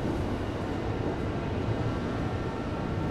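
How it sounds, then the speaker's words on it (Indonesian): A JR 205 series KRL electric commuter train pulls into platform 5 at Bekasi station, a steady low rumble and hum of rolling stock with broadband station noise, continuous and moderately distant, no talk. "Ini dari arah timur ada KRL JR 205 dari arah Cikarang ya. Tujuan Jakarta Kota masuk di jalur 5 stasiun Bekasi."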